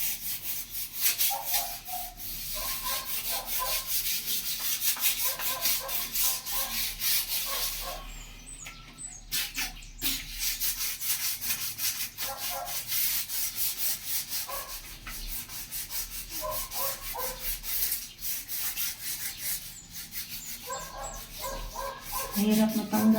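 Sandpaper scrubs at hardened soap in a bathroom, a close, continuous scratchy rubbing with brief pauses, while a dog barks and voices murmur faintly in the background.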